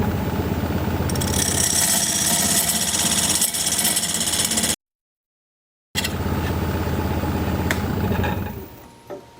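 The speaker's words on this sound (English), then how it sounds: "I'm going to use this diamond point tool to straighten up the sides of this tenon." A woodturning lathe spins while a diamond point tool cuts a cherry plum tenon, giving a loud, continuous grinding whir with a scraping edge. It breaks off in a sudden gap of silence, resumes, then winds down at the end.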